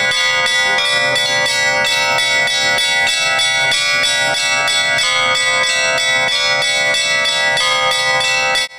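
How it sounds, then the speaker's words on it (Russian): Church bells peal continuously on a town square at the start of a Day of Slavic Literature and Culture ceremony, a loud, dense and steady ringing with rhythmic strikes running throughout and no voices. "Звон колоколов на площади первого учителей открыл торжественное мероприятие"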